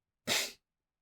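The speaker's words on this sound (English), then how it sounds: "sometimes you just sneeze because you sneeze" A person lets out a single short sneeze close by, with a sharp onset and a quick breathy fade, followed by silence.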